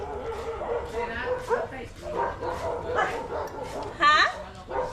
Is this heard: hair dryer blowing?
no